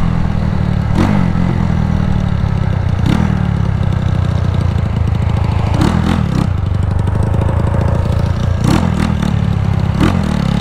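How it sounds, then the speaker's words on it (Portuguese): Honda Titan 250cc motorcycle with a modified, faster carburetor running out on a highway: a loud, steady engine drone continues throughout, broken by several sharp clattering bursts. "A moto parece que tá fazendo um barulho diferente"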